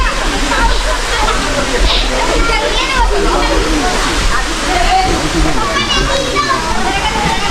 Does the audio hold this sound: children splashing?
yes